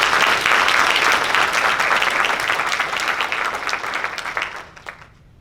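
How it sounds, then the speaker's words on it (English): An audience at a political speaking event in Amarillo, Texas applauds steadily in a dense, loud wash of clapping that thins and fades out over the last second. "So can I get a round of applause for Miss Jana?"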